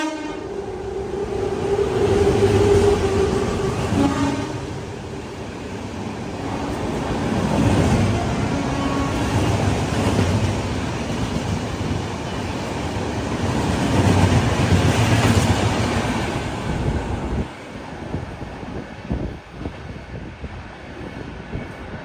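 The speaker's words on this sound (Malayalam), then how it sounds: "പുരി ഹൗഡ ശതാബ്ദി. ഇവിടെ നിന്ന് ഇതാ സിൽച്ചർ അർണോയ് എക്സ്പ്രസിനെ ഓവർടേക്ക് ചെയ്യുകയാണ്." The Puri-Howrah Shatabdi overtakes the Silchar Aronai Express, a loud, sustained rumble of passing carriages with rhythmic wheel clatter and train horn blasts, fading as the train moves off.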